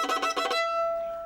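A violin bowed with too much pressure and too little speed gives a short, rough, chirping burst that thins into a thin, lingering high squeak, close and clear with nothing else sounding.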